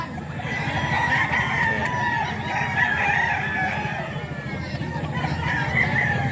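A lemon sweater gamefowl rooster, about eight months old, crows and clucks among other fowl in a busy yard, with continuous overlapping calls and a faint murmur of people talking in the background.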